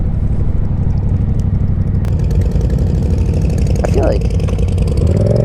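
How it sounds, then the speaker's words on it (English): A motorcycle engine runs at low RPM with a steady, thumping Harley-like rumble close by, while a voice talks over it. "I feel like when I run this bike just at low RPM, it just sounds like a Harley."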